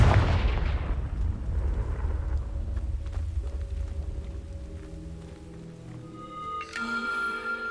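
A Confringo fire spell from Hogwarts Legacy detonates with a loud booming burst up front, followed by a long rumbling decay and lingering low hum, then a bright chiming magical shimmer near the end.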